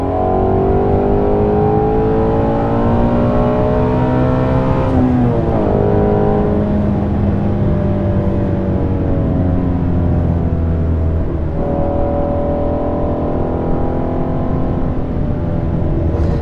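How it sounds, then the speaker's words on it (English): Ford Shelby GT350 exhaust note heard from inside while driving, a loud continuous engine drone with rising and falling revs through gear changes and a tricky switchback, no talk over it. "notice that there's not a lot of engine noise in this thing. Like, everything's exhaust out back."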